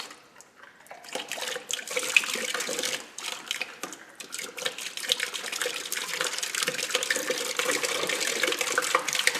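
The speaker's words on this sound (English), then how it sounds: "Probably have to run a good gallon through there to flush all that Prestone out." Coolant cleaner and water flush out of a car heater core, a steady broadband gush and splatter of liquid running continuously and fairly close, with no talk over it.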